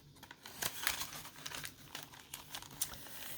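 A paper sack crinkles and rustles as hands handle it close up, in irregular soft crackles and crumples with a few sharper bursts, quiet and with no talking.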